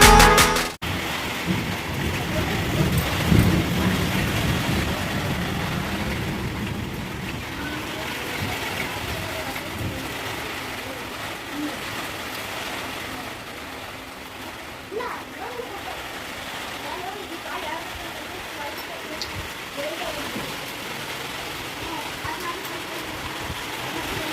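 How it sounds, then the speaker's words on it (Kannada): Heavy rain with stormy, gusting wind pours down on a Friday afternoon as a steady, dense hiss and splatter. It is loudest at the start, then eases slightly and stays continuous throughout. "ಮತ್ತೆ ಮಳೆ ಶುರು ಆಯಿತು ಬಿರುಗಾಳಿ ತರಹ"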